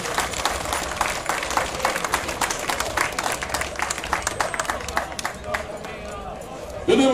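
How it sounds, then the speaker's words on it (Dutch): A roadside crowd at a cycling race in Gendt applauds a rider, a steady run of sharp claps under a loud announcer's voice, ending in a sudden burst of noise. "Alvast een hartelijke applaus voor deze man"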